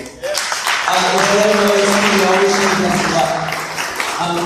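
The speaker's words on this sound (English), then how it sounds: "I'd like to actually take this opportunity to applaud Steve for the fantastic work he's done here." Sustained applause from a comedy roast audience fills the clip, steady and fairly loud from start to end, with a few tonal voices or hums layered underneath.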